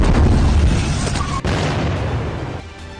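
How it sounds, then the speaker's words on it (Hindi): A heavy boom from a Fateh missile strike fired by Iran at Israel, with a dense, loud rumbling blast and a sharp crack midway that fade toward the end. "ईरान ने इजरायल की ओर फतेह मिसाइलें दाग दी।"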